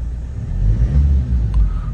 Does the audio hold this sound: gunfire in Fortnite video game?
no